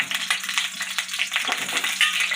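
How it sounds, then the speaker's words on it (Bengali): Dry red chillies and panch phoron hit hot oil with a busy, crackling sizzle, close and continuous, with quick spitting pops and no talking. "তেলটা গরম হয়ে এসেছে আমি এই শুকনো লঙ্কা আর পাঁচফোড়নটা"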